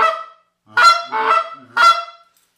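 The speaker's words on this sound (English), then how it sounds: "So try to do your two clucks, one out the side, one out the front." A handheld goose call blown in three sharp honking clucks, loud and close, with short gaps between the notes and no other sound.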